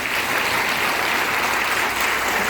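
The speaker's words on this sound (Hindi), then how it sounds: "तालियां बजा के रखिए" Steady, dense applause from a seminar audience at a Vestige products event, filling the whole stretch at an even level with no breaks and no voices over it.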